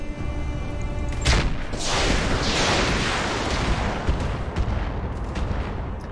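Rapid bursts from a rotary AC2 autocannon in the mech combat game RogueTech, a dense, loud roar of cannon fire with sharp impact crackles layered throughout, continuous over several seconds with no talking.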